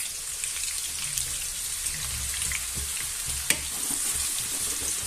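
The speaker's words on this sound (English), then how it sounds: "and the garlic, and I'm going to brown it off." Garlic and meatballs browning in olive oil give a steady, close sizzle and crackle, with a soft hiss throughout and one sharp pop near the end, with no voices.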